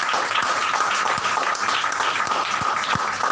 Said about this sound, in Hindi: पुप्पो जी के लिए एक बार जोरदार तालियां।